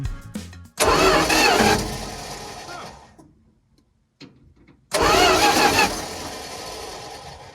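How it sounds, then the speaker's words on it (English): Engine of an abandoned Dodge D-600 truck, unused for 23 years, cranking over loudly in two long bursts, the first dying to near silence with a faint click, then a second crank that carries to the end. "Let's see if it cranks."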